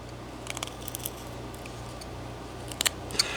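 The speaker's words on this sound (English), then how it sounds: "And cut a little line up in here." A whittling knife cutting a small line into carved wood, a few quiet, crisp snicks in two brief clusters over a low steady hum.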